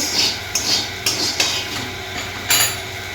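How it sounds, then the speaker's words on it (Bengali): Potatoes drop into a cooking pan already holding fried soybean chunks, giving several sharp metallic clanks and scrapes, spaced irregularly over a light background hiss, close and with no talking. "আলুগুলো এর মধ্যে দিয়ে দিলাম।"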